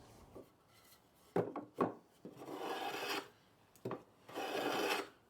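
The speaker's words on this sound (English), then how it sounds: "Now I'll use the plane to make a diagonal chamfer along all the board's edges" A hand plane rasps along a wooden board edge in two long strokes, cutting a diagonal chamfer, each stroke preceded by sharp wooden knocks and clatters, close by.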